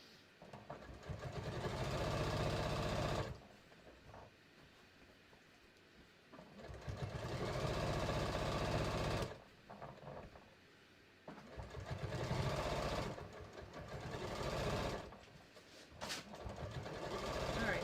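A home sewing machine stitches the bulky center front seam of a pair of shorts, running in steady bursts of rapid whirring separated by pauses, close and fairly loud, with someone talking between runs.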